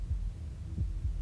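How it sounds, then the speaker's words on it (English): Low, muffled heartbeat thuds in the video game Slay the Princess, a few soft throbbing beats over a steady low hum. "That was the sound of a heartbeat,"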